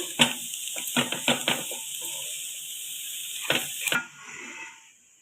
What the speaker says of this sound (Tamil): இப்போ கோஸ் சேர்த்து இதையுமே நல்லா மிக்ஸ் பண்ணிக்கலாம்